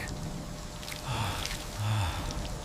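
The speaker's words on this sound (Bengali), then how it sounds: "শান্তির বৃষ্টি আজ নামলো দেখ" Steady rain falls and patters on a surface, with a few faint tonal sounds drifting in underneath.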